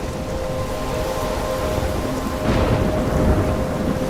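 A thunderstorm in the video game Life is Strange brings heavy, continuous rain with a low thunder rumble swelling midway, loud and enveloping, beneath a faint steady tonal hum.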